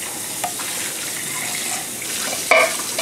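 A can rinsed with tap water while making chili: flowing water and sink splashing at close range, with a brief louder splash near the end and no talk.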